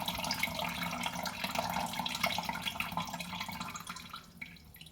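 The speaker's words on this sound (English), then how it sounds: "So we almost emptied the water in the sink." Water drains steadily from a bathroom sink with a stuck push-down plug, a continuous close gurgling and trickling rush that thins and fades near the end, with no voices.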